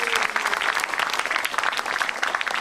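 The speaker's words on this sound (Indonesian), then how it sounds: "Tepuk tangan buat Metro TV." A stand-up comedy audience claps for Metro TV, lively crisp applause with distinct individual claps, steady and fairly close for the whole stretch.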